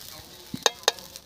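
Rice for pulao fries in a pan under a faint steady sizzle, broken by two sharp scraping strokes of a spoon against the pan.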